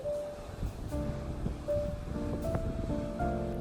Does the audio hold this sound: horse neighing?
no